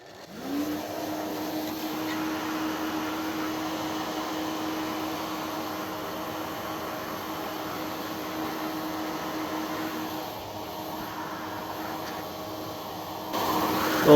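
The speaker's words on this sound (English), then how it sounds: "Let's borrow my wife's hairdryer here." A hair dryer blows steadily to heat a label on a My Arcade Galaga handheld, a constant whirring motor hum with a tonal whine, close and unbroken until it clicks near the end.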